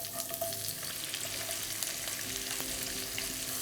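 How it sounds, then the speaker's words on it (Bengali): Thinly sliced onion frying in oil with mustard seeds in a pan, a steady close crackling sizzle that runs throughout with occasional stirring scrapes, no voices. "এবার এটাকে একবার ভালো করে মিশিয়ে নিয়ে আমি এখানে দিয়ে দিচ্ছি পাতলা করে কাটা পেঁয়াজ।"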